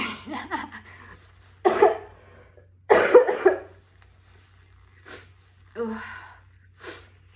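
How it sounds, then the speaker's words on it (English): Several short, forceful nasal blows and snorts come in bursts with pauses between them. Close and fairly loud, with no speech. "I really needed to blow my nose."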